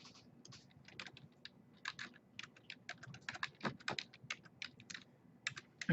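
Someone types on a computer keyboard while entering data, quick close-up clicks in uneven bursts and pauses, with a few sharper keystrokes standing out, and no talking.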